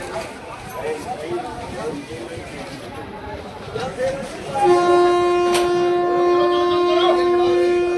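Crowd chatter at a station, then a long, loud horn blares from the Hazur Sahib Nanded train about to depart, from about midway to the end, drowning the murmuring voices.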